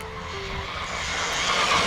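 A Traxxas Slash 4x4 RC car makes a steady, rising motor whine and tire rush as it speeds down a street into the wind, growing slightly louder over a continuous wash of broadband noise.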